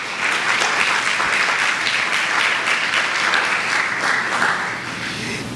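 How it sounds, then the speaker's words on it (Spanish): A church congregation breaks into a full, loud round of applause, a dense and sustained wash of clapping that holds steady and then eases slightly at the end. "Démosle un aplauso a la palabra de Dios."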